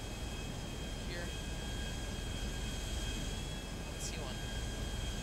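An airplane engine in GTA Online drones as a steady, broad roar throughout, with a brief whine sweeping past, while a voice talks briefly over it.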